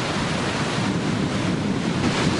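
Raging, storm-whipped sea waves roll in at Panama City Beach, Florida, a loud, continuous roar of surf with wind buffeting the microphone throughout and no talk.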